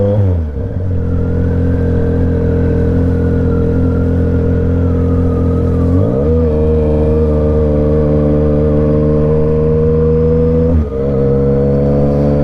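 A Yamaha MT-09 motorcycle engine while riding, a loud, close, steady drone that dips and shifts pitch twice as the rider changes throttle or gear, with no voices.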